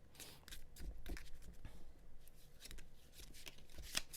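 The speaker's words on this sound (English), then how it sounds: "I feel like I'm going about shuffling this kind of wrong for this video" Close, soft riffling and flicking of tarot cards being shuffled, with irregular bursts of papery slaps.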